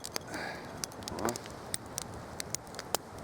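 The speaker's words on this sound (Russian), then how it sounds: "Костер развел, потому что с костром интересней." A campfire crackles and pops quietly outdoors in Siberia, with sharp irregular snaps scattered over a soft background hiss and a faint breathy sound.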